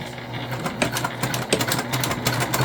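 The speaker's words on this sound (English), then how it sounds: "And we're just going to stitch straight down." A sewing machine stitches straight down the side seam of a Trailblazer convertible bag, its close, rapid mechanical chatter running continuously with light rhythmic knocks.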